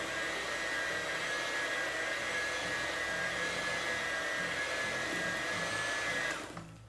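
An electric hand mixer blends banana bread batter made without flour, eggs or milk, a steady loud motor whine running unbroken for about six seconds before cutting off, with no talking.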